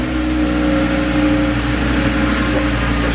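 An Audi RS3 five-cylinder engine running after a mechatronics replacement, a steady loud idle hum with a faint rev rise, close up and without talk.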